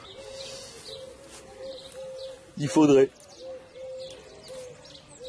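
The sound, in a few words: pigeons cooing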